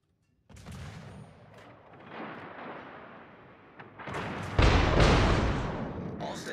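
Naval gunfire in World of Warships, heavy booming salvos and rumbling blasts building from a sustained roar to a louder volley near the end.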